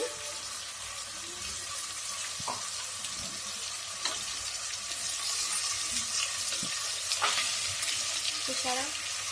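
Masala for chicken gravy frying in a pan, with a steady soft sizzle and occasional scrapes of stirring, heard close and moderately loud with no talk.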